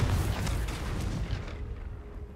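A blasting spell bursts in a Harry Potter video game, a heavy, booming explosion with a deep rumbling roar that slowly decays, loud and close with no voices.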